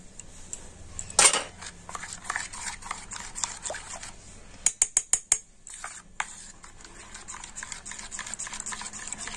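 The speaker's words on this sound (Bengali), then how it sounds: "আর লবণ দিয়ে সেটা কিন্তু খুব ভালো করে আমি এইভাবে গুলে নেব।" Spoon stirring salt into rice flour batter in a bowl, with faint scraping and a few sharp clinks against the bowl, quiet and close.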